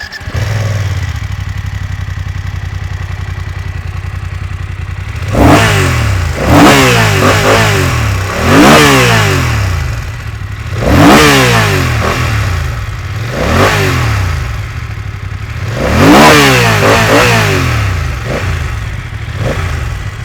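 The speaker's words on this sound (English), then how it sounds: "let's have a listen to how this exhaust sounds." BMW F900XR motorcycle standing still with its exhaust idling steadily, then blipped into four or five sharp throttle revs that rise and fall back to idle, loud and close with no voices.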